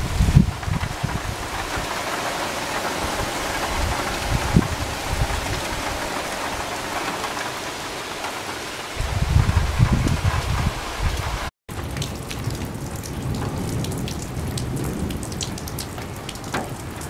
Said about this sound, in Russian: Вот очередной страшный ливень на нас обрушился.